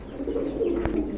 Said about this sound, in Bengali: আজকে কিন্তু টোটালি ডিম বাচ্চায় ভরপুর আছে কবুতর